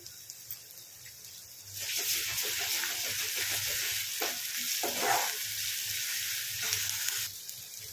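Ginger garlic paste sizzles loudly in hot oil in a pan for a village-style boti (tripe) curry, a steady crackling fry that swells after a quiet start and carries on with occasional stirring, with no talking.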